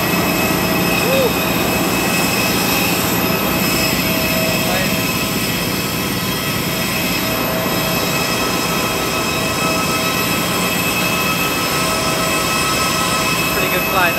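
A jet airliner's cabin just after landing in Kuching carries a loud, steady engine roar and rumble with high whining tones throughout, while voices murmur faintly underneath.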